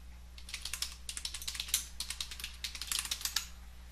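Rapid typing on a computer keyboard, a steady run of close, crisp key clicks with a few heavier strokes, under a faint low electrical hum with no voices.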